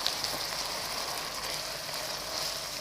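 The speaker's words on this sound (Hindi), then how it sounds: "गाजर, शिमला मिर्च, इनको भी हल्का सा मैं फ्राई कर लूंगी" Grated carrots and bell peppers frying lightly in a pan, giving a steady close sizzle with a bright hissing edge and occasional small crackles, without voices.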